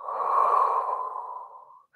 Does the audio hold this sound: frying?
no